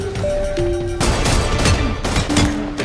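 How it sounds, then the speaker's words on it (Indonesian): Pistol gunfire in a John Wick Chapter 4 action scene, a dense run of loud, close shots and impacts layered over a tense film score. "John malah menembak seorang musuh"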